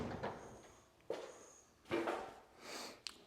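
Rear ambulance-style door on a 1978 Toyota Land Cruiser FJ40 swung open, a few sharp clunks and metallic latch knocks spaced apart, close and moderately loud, with no talk.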